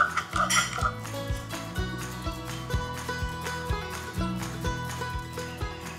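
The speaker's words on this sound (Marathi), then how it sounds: "ही बळकुटी यामध्ये घालूयात, झाकण लावायचं आणि याची आता शेवई पाडून घेऊयात इडलीच्या साच्यातच" Rice dough being pressed through a shev attachment on an idli mould in a home kitchen, a sequence of metallic clanks, creaks and clinks from the press at an uneven rhythm, close up.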